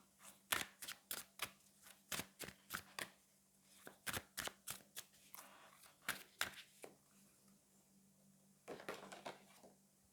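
Tarot cards are shuffled in a run of crisp, rapid riffling bursts close up, then a card is drawn, with brief pauses between the bursts.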